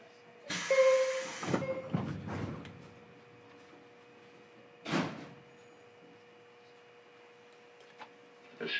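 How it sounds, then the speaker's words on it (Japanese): Doors of a JR 103 series rapid train closing before departure at a station on the Karatsu line, a broad burst of sliding-door noise followed by a thump and a later clunk, with a steady electrical hum underneath. "閉まるドアにご注意ください。"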